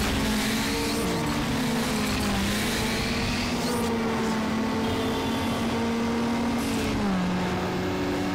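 A Subaru's engine drones steadily while racing through street traffic in Need for Speed Underground, a continuous close roar with pitch shifts between gear changes and faint tire noise throughout.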